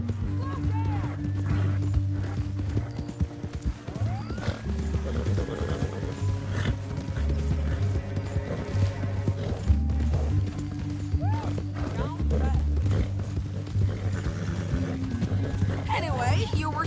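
Horse hooves clip-clopping steadily in Red Dead Redemption 2, riding toward Saint Denis, with a continuous game score and talk running over the whole stretch.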